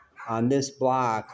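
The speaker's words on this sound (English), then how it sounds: "What got me going is the dog yelping over there." A chained dog yelping and whining in two drawn-out cries a short distance away, with a person speaking over it.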